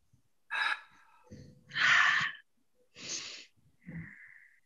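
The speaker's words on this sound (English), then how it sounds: "Breathing in, breathing out." Deep breaths during a yoga class come as a series of audible, airy inhales and exhales, some wheezy or gasping, close and fairly quiet with pauses between them.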